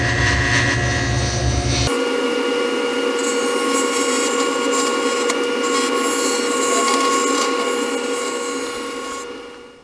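A lathe turns a tenon on a kitless cap workpiece, a steady loud whirring hum with cutting noise above it that starts after a short louder opening and fades at the end, with no talking.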